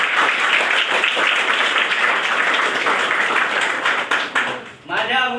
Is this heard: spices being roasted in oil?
no